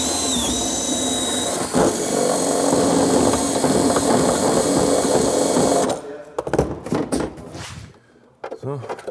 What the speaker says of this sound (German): Wir müssen jetzt noch ein Loch ins Handschuhfach oben reinmachen